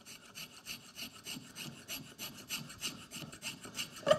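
Rhythmic rasping strokes of a rasp or file shaping a wooden scoop held in a vise, steady back-and-forth rubbing at close range, evenly paced throughout with no voices.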